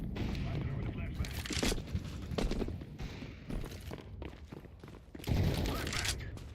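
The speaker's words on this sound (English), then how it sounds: "I'm throwing the flashbang." Grenade and flashbang blasts in a tactical shooter game, several sharp bursts with gunfire and footsteps, a big burst near the end, under steady player chatter.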